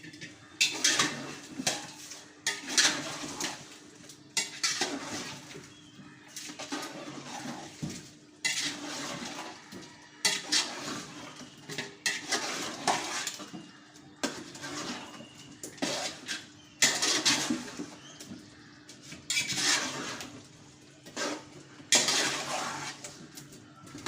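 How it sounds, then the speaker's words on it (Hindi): Yogurt and spices are stirred into biryani in a cooking pot, with a spoon scraping and clanking against the metal in repeated bursts, wet mixing sounds close by and steady throughout. "ये देखिए इसको अब हम अच्छी तरह मिक्स कर देंगे इसको"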